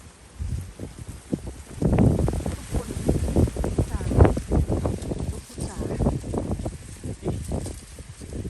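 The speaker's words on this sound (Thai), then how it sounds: "ไม่รู้จะรอดหรือเปล่าเพราะลมแรงนะคะ" Strong wind gusts buffet the microphone in a Florida garden, a loud continuous roar of rumbling bursts and rustling leaves throughout.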